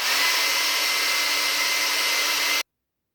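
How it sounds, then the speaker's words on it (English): A handheld hairdryer blows steadily on a wet painting, a loud, even whir that runs without a break for about two and a half seconds and then cuts off abruptly. "So I'm going to use my hairdryer to start drying this off."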